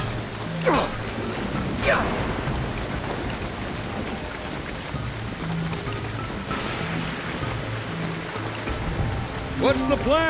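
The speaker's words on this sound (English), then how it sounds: "This rain is gonna be murder on my spandex." Steady rain pattering on surfaces in the video game Ratchet and Clank Future: A Crack in Time, a continuous wet hiss with occasional mechanical clanks and a brief game tone near the end.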